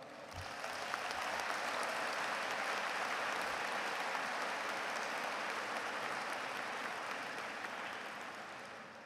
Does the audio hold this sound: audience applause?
yes